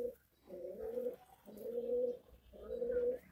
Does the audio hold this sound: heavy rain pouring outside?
no